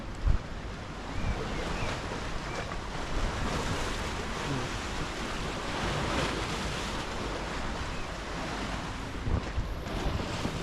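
Sea waves wash against a rocky shore at Dubrovnik, a steady broadband surf roar with wind buffeting the microphone throughout, loud and continuous with no talk.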